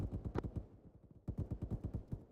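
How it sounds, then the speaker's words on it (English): Rapid automatic gunfire in the military shooter Arma, set in a jungle, two quick rhythmic bursts of evenly spaced shots separated by a brief pause, sounding somewhat distant and muffled. "do you hear where the shots are coming from?"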